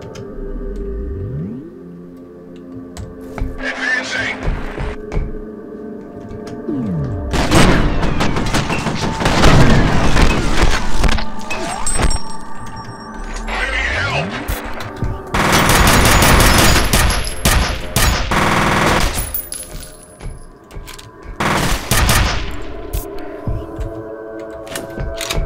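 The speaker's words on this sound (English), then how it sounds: "Where did that shot come from?" Bursts of automatic gunfire ring out in the F.E.A.R. first-person shooter, loud rapid volleys separated by short lulls, with booming impacts and a steady background hum.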